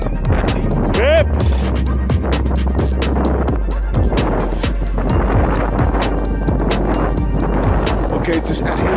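Strong wind buffets the microphone with a constant low roar beside stormy waves, and a few voices talk through the gusts outdoors.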